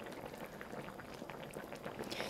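Kimchi stew with pork neck, rice cakes and tofu bubbles steadily in a pot, a continuous soft simmering burble with small pops, close and fairly quiet, with no voices.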